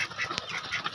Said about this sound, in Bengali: এখানে হাঁস আছে তো দেখছি, কি চীনা হাঁস নাকি